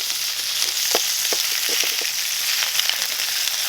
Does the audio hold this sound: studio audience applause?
no